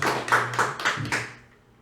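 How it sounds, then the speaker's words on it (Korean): A church congregation claps at a Sunday service, a short burst of about five claps that quickly dies away. "수고하신 사모님 박수 한번 해주시겠습니다"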